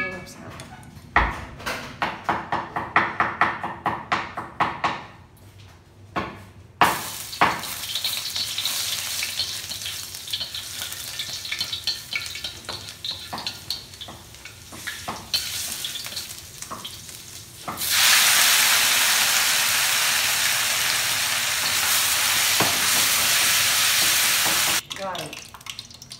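Batter for shrimp, pork and mung bean cakes sizzles in hot oil, a steady frying hiss that builds and grows loud and dense toward the end, with some clatter and a voice early on.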